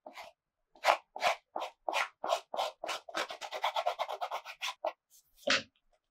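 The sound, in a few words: roughing up leather surface for gluing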